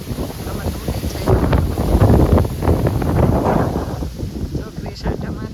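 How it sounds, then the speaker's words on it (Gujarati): Strong wind buffets a microphone outdoors in a village during rain, roaring in gusts that build and fade, with voices talking faintly beneath. "પવન બહુ જ છે."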